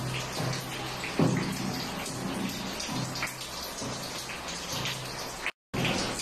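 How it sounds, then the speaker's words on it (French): Steady patter of rain leaking into a house, with water dripping and splashing nearby indoors, a continuous wet spatter with occasional louder drops. "Il pleut dehors et il pleut à l'intérieur de la maison."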